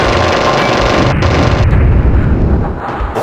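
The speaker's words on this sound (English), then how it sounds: "Looks like one of the Bradleys was shooting at us." Gunfire from a Bradley fighting vehicle in the Fighters Anthology flight game, a dense, continuous low rumble of rapid shots and booms that holds steady at close range before easing off slightly at the end.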